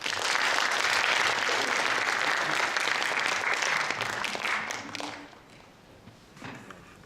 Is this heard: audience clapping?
yes